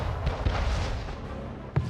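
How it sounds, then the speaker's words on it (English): Cannon tower fire during an Anno 1800 naval battle: a few deep booming shots, with one louder blast near the end, over a dense, continuous roar of battle noise. "She has mounted guns. Cannon tower. Another cannon tower."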